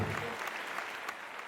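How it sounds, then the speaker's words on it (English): Brief round of audience applause for a contestant at a live quiz competition in Mumbai, a fairly faint, fading patter of clapping with no speech over it. "give a round of applause to our friend there"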